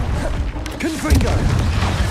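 Confringo explosive spell from Hogwarts Legacy, a muffled boom with crackling bursts layered under a voice and other game sounds, moderately loud.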